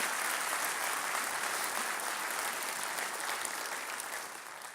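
Dense, continuous applause from a large audience at a Long Beach civic business event, loud and even at first, then slowly fading in the final second.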